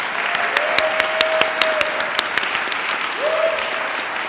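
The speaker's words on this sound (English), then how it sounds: "Let's just give everyone a round of applause." Audience at a program graduation event gives a round of applause, steady close clapping with distinct individual claps, a sustained tone humming underneath.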